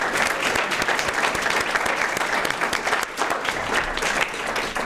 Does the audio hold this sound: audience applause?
yes